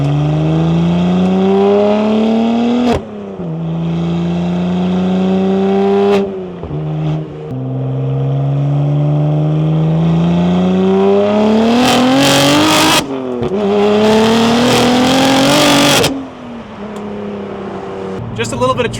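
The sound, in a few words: BMW M2 exhaust revving and downshifting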